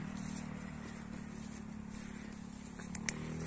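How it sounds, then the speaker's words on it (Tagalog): Motorcycle engines hum faintly and steadily from a nearby cemented provincial road in Doña Remedios Trinidad, Bulacan, as a low continuous drone with a small click near the end. "Naririnig naman po natin ang mga ugong ng motor."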